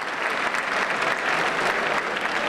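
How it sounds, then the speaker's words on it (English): Home fans in a football stadium applaud an injured player with a right ankle problem as he is helped up, a steady, dense round of clapping heard from above that holds evenly throughout. "he gets a nice round of applause from the home fans in the stadium directly below us"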